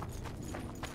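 Roach the horse's hooves clip-clopping in The Witcher 2 video game, a short quick patter of steps close by over a steady low game background.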